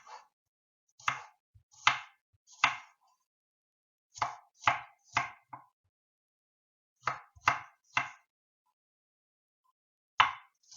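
A knife slices onions into thin strips on a board, heard as crisp, close chops in quick bursts of two and three separated by short pauses, with no talking.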